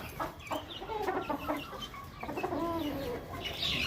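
Hens clucking inside a mesh coop, a steady run of close, low murmuring clucks and short calls overlapping one another against faint background noise.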